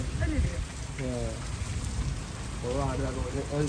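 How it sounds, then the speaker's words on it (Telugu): Steady rain patters and hisses throughout, with people's voices talking over it at moments. "వానొస్తుంది"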